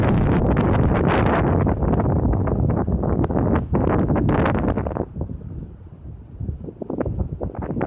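Loud, rough wind buffets the microphone in a birch tree forest, a continuous roar that eases briefly near the end before gusting up again, with no voices.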